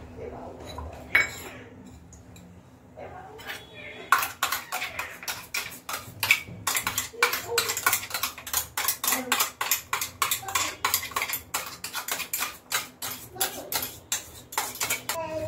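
Spoons clatter rapidly against a bowl as an almond milk and almond paste mixture is scraped out, a dense run of sharp metallic clinks and ticks that starts after a few quiet seconds, close and loud.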